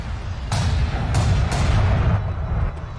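Heavy, booming railgun volleys in the real-time strategy game Homeworld: Deserts of Kharak, several loud discharges landing about half a second apart over a constant deep rumbling battle drone.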